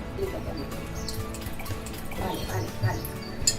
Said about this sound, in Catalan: Li posem un poquet més d'aigua perquè són molts.